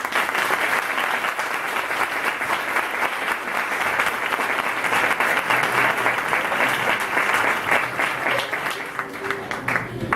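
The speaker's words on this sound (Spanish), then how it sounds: "yo quiero un aplauso para ella también" Audience applause for Doña Guadalupe at a school event, long continuous clapping from many hands that stays full and loud, easing slightly near the end, with faint voices underneath.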